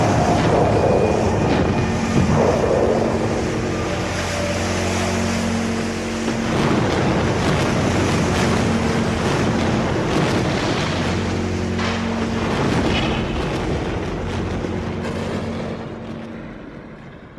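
Massive floodwater from eroded dam tunnels rushing downriver, a loud continuous roar and wash with wind buffeting the microphone, fading slightly toward the end.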